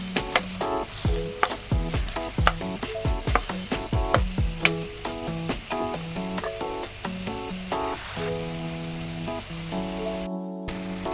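Chicken and vegetables for chicken afritada sauté in a pan with a steady close sizzle, broken by a series of scraping and clattering stirs that ease into continuous frying.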